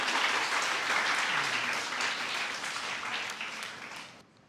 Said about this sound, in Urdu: آپ سب کی بھرپور تالیوں میں استقبال کیجیے